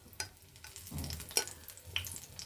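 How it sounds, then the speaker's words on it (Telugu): Batter-dipped ridge gourd leaf fritters fry in hot oil, a quiet sizzle broken by soft stirring scrapes and a few sharp crackling pops. "ఆకు తీసుకున్నామా, పిండిలో ముంచామా, నూనెలో వేసామా."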